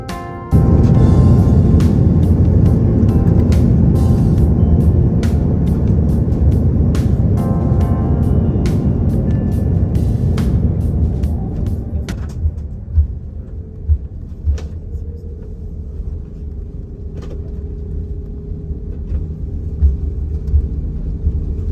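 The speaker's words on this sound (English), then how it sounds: "it was wheels down at Charles de Gaulle" A passenger airliner touches down and rolls out at Paris Charles de Gaulle airport after a flight from New York JFK, heard from inside the cabin as loud, steady engine and runway rumble with repeated thumps, easing into a quieter taxi hum.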